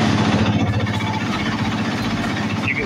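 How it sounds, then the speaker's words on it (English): A motorcycle engine cranks over and settles into a steady, loud, close idle with a low rumbling throb through the whole moment. "So I go ahead and crank up the bike."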